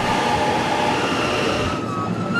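A KRL commuter train in Jakarta rumbles steadily past at close range, a loud continuous rolling and rail hum with a faint wheel squeal, no voices.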